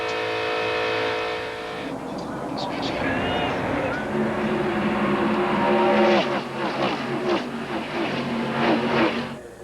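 Stock race cars roar past at Talladega Superspeedway during a 1995 ARCA race, engines droning loud and continuous with rising pass-by sweeps, under a commentator's steady talk.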